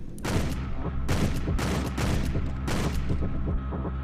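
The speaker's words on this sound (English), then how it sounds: "What kind of power does this fucking shotgun have?" Heavy shotgun blasts boom in the stealth game Hitman: Contracts, three or four big reports spaced about a second apart, each trailing into rattling echoes and a lower rumble, with no voices.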